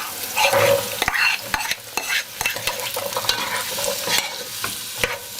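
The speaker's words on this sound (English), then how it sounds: "we're going to add the sweet potato." Sweet potatoes tipped into a hot pan and frying, a steady sizzle broken by sharp scraping and stirring clacks of a utensil against the pan, close and fairly loud throughout.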